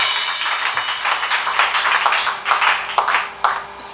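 A congregation claps and applauds together at a church service, a dense wash of many hands with irregular swells and a few sharper peaks, loud and close throughout with no speech.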